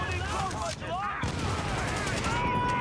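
Gunfire in an online shooter video game: bursts of rapid shots and booms layered over a dense, busy game soundtrack with whistling effects, fairly quiet overall, with voices talking now and then.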